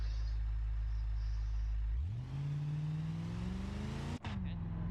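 A drag car engine in BeamNG.drive, a car with donk front wheels, drag radials and about 1600 horsepower, idles low, then revs up into a loud rising drone with a brief dip as it shifts and keeps pulling.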